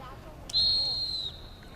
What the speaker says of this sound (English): we got a whistle prior to the shot